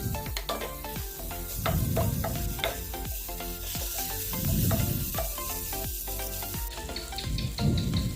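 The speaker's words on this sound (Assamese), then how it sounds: "এতিয়া আকৌ এইখিনি ভালকৈ লৰাই অলপ টাইম ভাজি ল'ম।" A spiced paneer mixture with cumin, chili powder and shahi paneer masala sizzles steadily in a pan while a spoon stirs and scrapes in repeated close strokes, with no talking.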